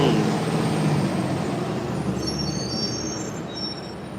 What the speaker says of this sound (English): How are there so many trucks?